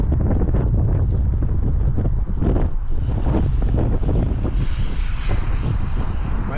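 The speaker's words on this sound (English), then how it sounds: "it is windy coming from that side" Strong wind buffets the microphone continuously, a loud roaring rumble with gusty swells and no voices.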